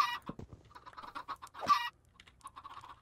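Several Minecraft chickens cluck and squawk in quick, scattered bursts, fairly faint, with one louder squawk midway and softer clucks trailing off.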